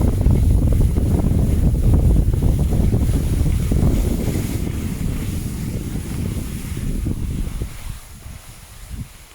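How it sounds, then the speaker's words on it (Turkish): Strong wind roars against the microphone while skiing, in a loud, steady rush that slowly eases toward the end. "Sert bir rüzgar çarptı orada"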